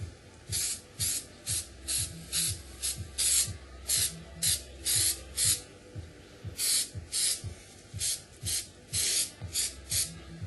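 Spraying 3M 77 spray adhesive onto the left side of an aircraft rudder: a series of short hissing bursts about a second each in a steady rhythm with a brief pause midway, close and fairly quiet.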